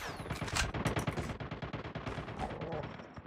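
Rapid automatic gunfire in Call of Duty, loud and dense, a continuous burst of crackling shots filling the whole moment with voice-like game chatter mixed in.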